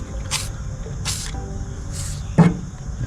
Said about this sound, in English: I'm gonna spray all these nuts on the header, PB blaster.